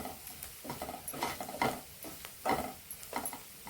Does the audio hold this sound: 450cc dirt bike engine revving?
no